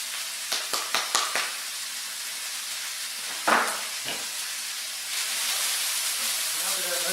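Onions, pepper, garlic and ginger cook in a pan for vegetable egg rolls, a broad hissing sizzle under a few quick clatters and a scrape, the sizzle swelling louder toward the end.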